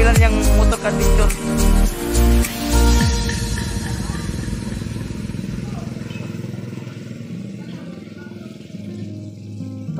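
A motorcycle engine runs loudly up close, rough and throbbing at first with a few pulsing revs, then settling into a steady idle as a voice talks over it.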